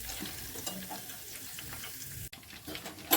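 Herbal leaves fry in oil for homemade hair oil, making a soft, continuous sizzle with faint stirring, and a brief knock near the end.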